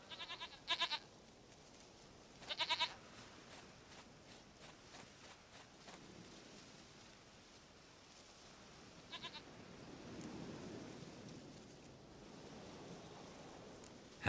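A goat in The Witcher 3 lets out two short, quivering bleats early on and a fainter one later, over a quiet outdoor ambience with faint rustling.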